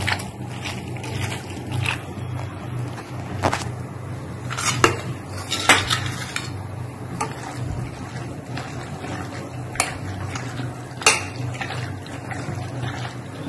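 Crab being mixed by hand with spice powder in a metal pot, giving scattered clinks and scrapes against the pot and wet squelching over a steady low background, with no talking.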